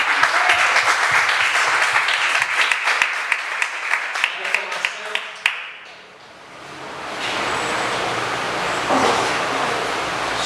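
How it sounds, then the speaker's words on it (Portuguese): A church congregation claps together for a few seconds, the applause thinning into scattered claps before fading into a low hum of room noise and quiet voices. "Vamos aplaudir a palavra do Senhor."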